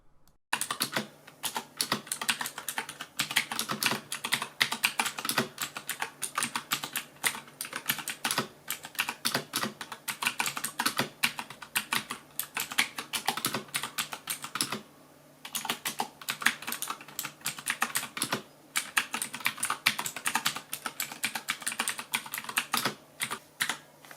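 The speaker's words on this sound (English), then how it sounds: "Let's do a quick typing test so you can hear these switches in use" Rapid, clicky keystrokes on an AOC AGON AGK700 RGB mechanical keyboard rattle along in fast bursts for over twenty seconds, pausing briefly now and then. No talking.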